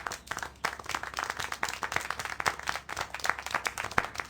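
Clapping in the video game Syberia: The World Before, a lively run of hand claps with individual sharp slaps standing out from a softer patter, steady and fairly close, with no talk during it.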